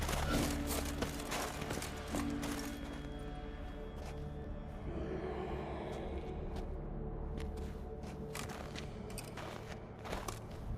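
Horse hooves clip-clop in The Witcher 3 as a large plough horse moves along, a fast rhythmic clatter under game ambience and music, with scattered sharp impacts.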